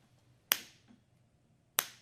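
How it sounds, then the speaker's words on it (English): Two crisp finger snaps about a second and a quarter apart, each a sharp close transient with a short decay, meant to switch a sound-activated light in a classroom coding demonstration; a faint tap falls between them over quiet background. "when I snap or clap"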